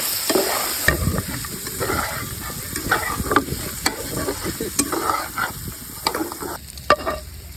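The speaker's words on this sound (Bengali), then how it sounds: "এবার চিকেন ফ্রাইগুলো দিয়ে দিচ্ছি সুন্দর মতো নেড়ে নিচ্ছি" Chicken fry pieces being stirred in a pan, with repeated scraping strokes of the spatula over a steady, close sizzle of hot oil.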